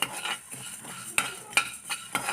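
Spice powder mix for restaurant-style tomato bath dry-roasting in a pan, with several scraping stir strokes and light clinks of a utensil against the metal over a faint, steady sizzle.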